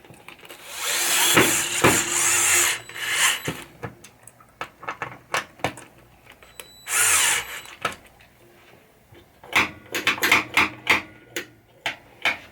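A power drill drives screws into a slingshot assembly on a 1980 Williams Firepower pinball machine, with two loud whirring bursts followed by a quick series of short trigger pulses and clicks, close by with no talking.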